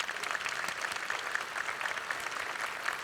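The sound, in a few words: audience applause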